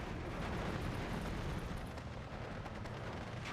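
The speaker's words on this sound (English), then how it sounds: "And I think the mortars are enough. Just firing into the city is not really worth it" Mortars pounding a city in the strategy game Steel Division 2, a dense, continuous roar of distant blasts and rumbling artillery fire with no clear gaps between impacts.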